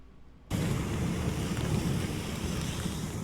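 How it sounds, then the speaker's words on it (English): Strong wind buffets the microphone on a rainy outdoor walk. A steady, loud rushing roar starts abruptly and continues without a break, with no voices. "Whoa, this is a lot of wind."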